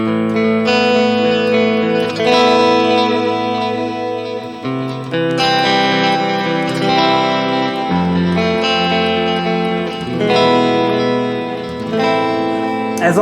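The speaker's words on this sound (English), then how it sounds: "So as you can hear, it has a shimmer." A clean electric guitar runs through a multi-effects unit with a shimmer effect, playing loud sustained chords and notes that ring and overlap with a bright, layered wash throughout, with no talking.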